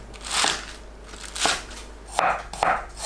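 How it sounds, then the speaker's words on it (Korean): A knife cuts napa cabbage into long strips on a board: about five crisp, crunchy chops at an uneven pace, close and moderately loud over faint background hiss. "알배추를 반 자르고 길게 썰어 주세요"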